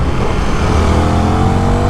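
KTM 1390 Super Duke R motorcycle engine on a track, a loud, steady, close roar held at high revs with no pause.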